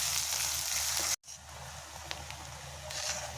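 Chopped onions fry in a pan until light brown, giving a quiet, steady sizzle with a brief dropout partway through and a few faint clinks.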